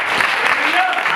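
Short burst of loud applause from a church audience clapping for children, a dense wash of many hands with a voice faintly mixed in.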